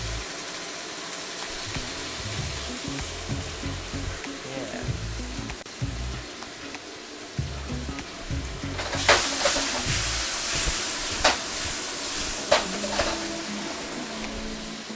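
Beef steak sears in a hot pan for a tomato beef chow mein, giving a steady, close sizzle that swells louder partway through, with sharp crackles and a person talking over it.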